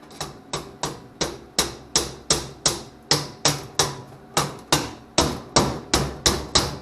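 A framing hammer strikes hard again and again in a steady, quick rhythm, each blow sharp and close, about three hits per second.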